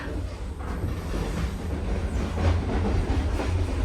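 A Vietnamese train carriage rattling and rumbling as it moves along the track, a steady low clatter throughout.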